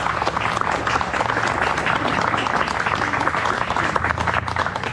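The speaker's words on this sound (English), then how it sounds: "We give our cannoneers a round of applause," Outdoor applause from a crowd at a Kennesaw Mountain battlefield cannon demonstration, a dense, steady wash of clapping at moderate volume lasting the whole stretch, with no voices on top.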